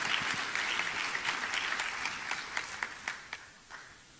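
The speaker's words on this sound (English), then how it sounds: "Let's give a big round of applause for Miss Karen Chang" An audience at a school district's 2022 Teacher of the Year ceremony applauds a teacher honoree, a dense round of clapping that thins out toward the end, with a few separate claps lingering.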